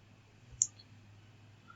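A single sharp mouse click on a Continue button during account setup in MATLAB Online, short and close, heard alone against a quiet room hum.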